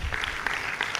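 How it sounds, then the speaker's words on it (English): Brief crowd applause at a drills competition at the National Ground in Ghana, a burst of scattered clapping with sharp individual claps standing out. "I think they deserve a round of applause"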